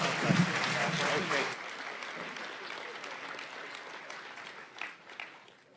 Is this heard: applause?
yes